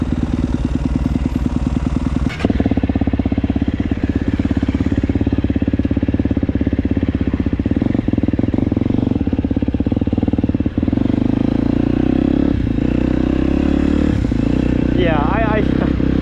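A KTM 250 SX-F dirt bike engine runs loud and close, revving steadily with rising and falling throttle and a few sharp surges, mechanical clatter under the drone.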